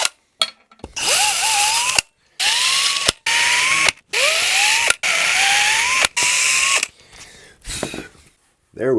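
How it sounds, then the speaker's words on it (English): A power drill with a step bit deburrs the string-through ferrule holes in a guitar body, with about six separate bursts of whirring that rise in pitch as each run spins up, split by short pauses and clicks. "I want to take this step drill bit and fix the edges on our string through ferrule holes back here"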